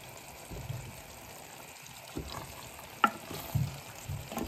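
Shakfola fish laid into hot oil in a pan, giving a soft, steady sizzle with a sharper crackle spurt partway through, close and fairly quiet, with no voices.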